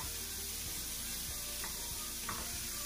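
Shakshuka tomato sauce simmering on a gas stove, a continuous soft sizzle and bubbling with a couple of brief spoon scrapes as it is stirred, no voices.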